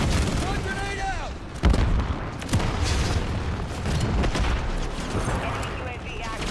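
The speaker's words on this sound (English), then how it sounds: "Stun grenade out!" A stun grenade pops with a sharp bang in a Call of Duty match, amid a dense mix of gunfire, booms and callouts from in-game voices.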